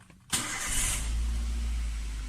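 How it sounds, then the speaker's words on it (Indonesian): A car engine cranks and catches at the start of a brake system check, then settles into a steady, loud low idle that carries on alone to the end. "kita nyalakan mesin terlebih dahulu"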